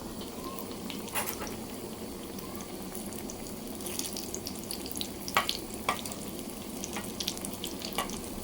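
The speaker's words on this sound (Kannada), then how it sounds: "ಎಣ್ಣೆಯಲ್ಲಿ ಫ್ರೈ ಮಾಡ್ಕೊಳ್ಬೇಕು. ಇದು ಡೀಪ್ ಫ್ರೈ ಮಾಡಬೇಕು." Battered sponge gourd slices deep frying in oil, a soft continuous bubbling hiss broken by a few sharper pops and crackles.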